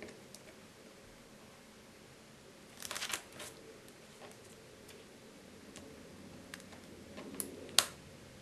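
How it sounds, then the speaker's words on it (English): Scissors snipping the ends off a plastic Ziploc bag, a few quiet crisp cuts and crinkles spread across a near-silent background, with a sharper snip toward the end. "Then you need to cut the ends off so you can pull it apart."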